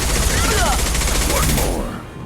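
Heavy sustained gunfire in the video game Mass Effect 2, a loud dense burst of rapid shots that drops off near the end, with combat voices shouting over it.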